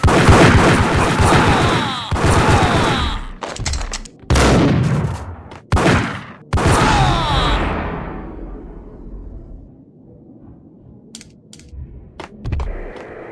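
Gunfire in the video game Max Payne: loud bursts of rapid shots in several separated volleys, followed by quieter ambient game sound with a few faint later shots.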